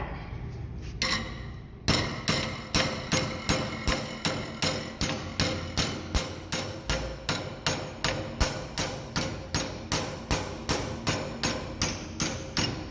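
Hammer blows on a band iron bracket ring out in a steady, regular series of about two dozen sharp metallic strikes, close and loud, following a brief scrape at the start.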